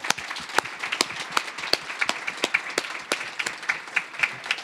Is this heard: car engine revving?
no